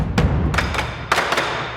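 Deep bombo drum hits from the Spitfire Audio Hans Zimmer Percussion library, three or four heavy, booming strikes with roomy low resonance, loud and alone.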